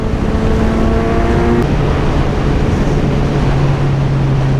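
A Kawasaki Z900 motorcycle engine hums steadily while riding, loud and close, with a sustained low drone and strong wind rush throughout and a slight pitch drop partway through.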